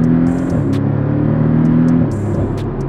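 A Porsche Cayman 718 S with a turbocharged four-cylinder boxer engine, in Sport Plus mode, accelerates hard. The deep, loud rumble climbs steadily, then shifts into a new gear near the two-second mark.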